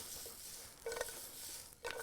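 Stir-fried cucumbers tossed in a hot pan give a soft continuous sizzle, broken by two brief clattering bursts as the food is flipped.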